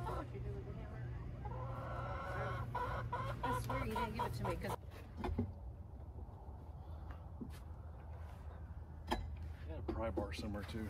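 Quail being moved into a plywood brooder and storage enclosure: repeated clucking and chirping calls, fairly close and overlapping, mixed with voices and some bumping.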